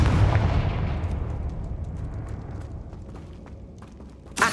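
A fiery Confringo explosion spell from the video game Hogwarts Legacy erupts with a loud booming burst that rolls off into a long, fading rumble, with a sharp new crack at the very end.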